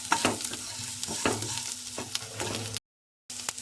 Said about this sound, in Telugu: కొంచెం కారం కొంచెం గరం మసాలా బాగా కలుపుకోండి